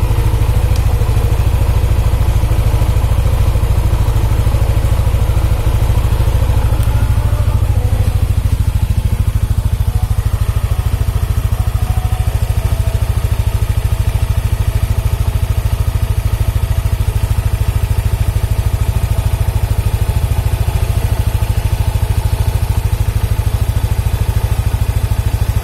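Yamaha motorcycle with 42,000 km on it, idling on Petronas 10W50 oil: a steady, loud low engine drone with fine clatter runs evenly throughout, alone with no talk.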